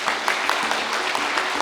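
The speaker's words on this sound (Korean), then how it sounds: "우리 여러 국회의원님께 다시 한번 박수 한번 드리고 시작하겠습니다." Dense, steady applause from the audience at a parliamentary forum in Korea's National Assembly on founding a national medical school in Gyeongbuk, filling a brief moment with a faint tone beneath it.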